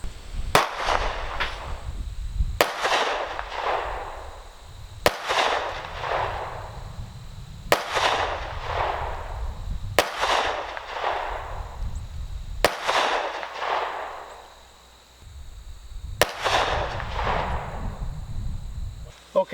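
Seven sharp, loud 9mm shots from a Kimber Micro 9 pistol fired at an outdoor target range from the 15-yard line, spaced evenly about two and a half seconds apart, each with a brief ringing decay.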